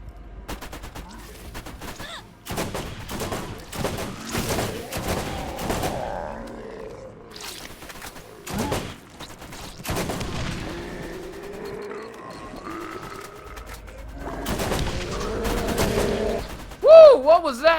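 Automated turret gunfire in the video game Borderlands, Zombie Island of Dr. Ned, rattling in repeated bursts with booming impacts over roughly eighteen seconds, broken by brief pauses, with a voice briefly heard near the end.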